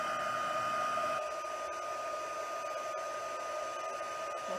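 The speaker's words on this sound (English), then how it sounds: "you're going to bring the heat tool in and the powder is going to go flying" A heat tool blows steadily while melting clear embossing powder at a stamping workshop, giving a continuous close whirring hiss that runs throughout without pause, and no one speaks.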